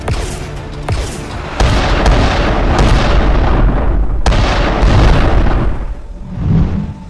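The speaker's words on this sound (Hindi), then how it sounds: "उधर शिप के अंदर से स्मगलर लगातार फायरिंग कर रहे थे।" Gunfire and blasts from a smugglers' shootout at a ship in an animated cartoon, loud booming reports and sharp pops in quick succession over a dense, rumbling background.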